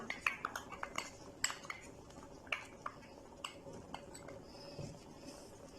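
A spoon clinks and scrapes against a bowl while mixing ketchup into thick tamarind chutney. The clinks come in an irregular rhythm, close and fairly soft, with a faint background hum and no talking.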